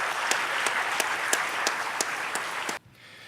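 Audience applause at an awards ceremony, a steady wash of many hands with sharper individual claps poking through, sustained and fairly loud before cutting off abruptly near the end.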